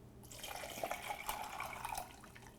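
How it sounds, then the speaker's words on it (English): Cold water from the refrigerator is poured into a cocktail shaker holding crushed ice, a close, steady liquid splash and gurgle lasting a couple of seconds, with no talking. "Cocktail shaker's got some crushed ice in it. So what I'm going to do is add 1 cup of water."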